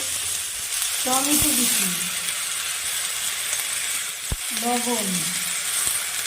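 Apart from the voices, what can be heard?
spices and tomato frying in a pan for fish curry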